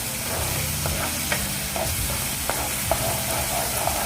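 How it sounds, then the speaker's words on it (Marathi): Onion sautés in a pan for chana masala, a steady dense sizzle with occasional light spatula taps, close and continuous. "कांदा आपल्याला थोडंसं एक दोन मिनटं फक्त परतायचं आहे फक्त याचा कच्चेपणा जाईपर्यंत आपल्याला परतायचं आहे"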